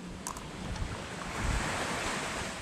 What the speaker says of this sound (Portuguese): Eu tô com medo desse vento.